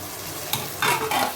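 Chopped tomatoes stir and sizzle in hot oil in a pan for chicken biryani, a close, steady frying hiss with louder bursts as the spoon scrapes and turns them.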